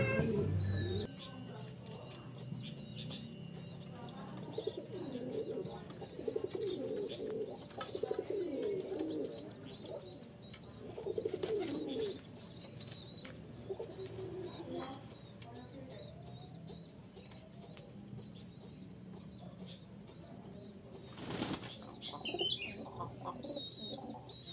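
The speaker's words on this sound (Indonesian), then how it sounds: "Merpati PM saya yang baru" Pigeons in a loft coo softly in low, repeated throaty murmurs, with occasional rustles and brief flutters. A person talks faintly at times in the background.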